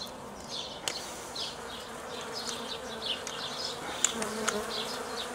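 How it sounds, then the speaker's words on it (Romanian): A honey bee buzzes close by at a beehive, its drone rising and fading as it passes back and forth, with soft clicks underneath. "Mai e câte o albină care buzie la cameră"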